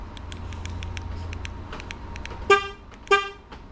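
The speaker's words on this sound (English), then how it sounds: "Horns work." Two short, loud honks from the horn of a 2019 Ford Mustang GT being rebuilt after salvage, sounding about half a second apart over a low background hum, with a few faint ticks before them.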